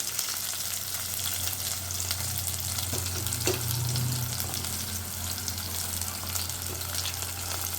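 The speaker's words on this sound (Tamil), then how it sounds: "வெங்காயம் இந்த அளவுக்கு நல்லா வதங்கட்டும்." Onions sizzle steadily in a hot pan while being sautéed for a spicy chutney, a constant close frying hiss with occasional stirring clinks and scrapes, no talking.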